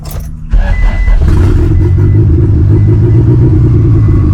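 An old Honda Civic engine jump-started from a battery pack catches with a sudden loud burst, then settles into a steady, close, even idle rumble that carries on without a break.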